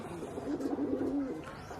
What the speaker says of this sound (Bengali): আর এই যে এখানে কবুতর আছে